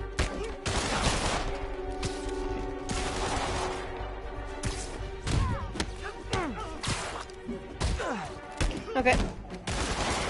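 Game gunfire from a Spider-Man video game crackles in scattered bursts throughout, mixed with thuds and impacts under steady background music and frequent excited talking.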